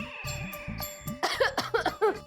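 A person coughs several times in quick, rough bursts, close and fairly loud, with a tonal background sound running underneath.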